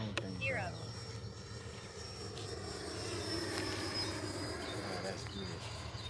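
Freewing F-22 Raptor 70mm electric ducted-fan RC jet at full throttle, a steady distant whine and rush that holds across the whole stretch over constant wind noise, with people talking faintly nearby.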